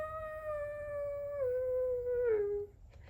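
A Sony Aibo robot dog gives a single sustained electronic howl, a steady pitched tone that slides slightly downward and wavers near the end before cutting off, close and fairly quiet, with no talk over it.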